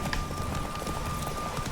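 A horse gallops at speed in The Witcher 3 video game, its rapid, rhythmic hoofbeats pounding steadily up close under faint game ambience.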